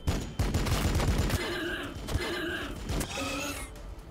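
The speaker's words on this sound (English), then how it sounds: "Bolt gun fire, go ahead. Pistol fire, go ahead." Bolt gun and pistol fire in Warhammer 40K: BattleSector, a short volley of sharp shots followed by mechanical whirring and clanking, fairly close and moderately loud.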